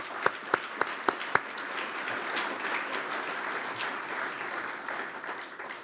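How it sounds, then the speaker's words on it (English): A few sharp, close claps ring out first, then applause from a conference audience at the LearningSCAPES 2019 event builds into a dense, steady patter that carries on and slowly fades. "So let's just give them a round of applause,"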